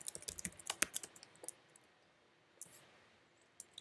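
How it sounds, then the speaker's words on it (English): Computer keyboard typing, a quick run of crisp close key clicks that slows and stops, followed after a pause by a few isolated taps. "Gonna type some passwords"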